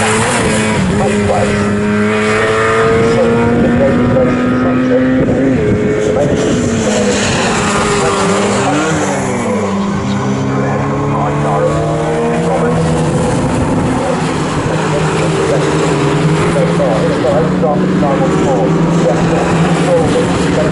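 Dunlop Mini Seven race cars snarl past in a close pack at Snetterton, their engines rising and falling through the gears in overlapping tones while a commentator talks over the din.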